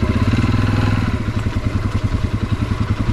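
A 125cc motorcycle engine labors loudly and close up while pulling away in first gear, its uneven low chugging and clatter stuttering and surging as it struggles.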